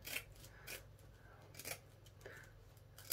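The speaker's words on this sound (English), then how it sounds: "So I'm gonna just snip." Scissors snip through stiff sinamay straw fabric while a hat brim is shaped, giving a few crisp, close cuts spaced unevenly over a quiet room background.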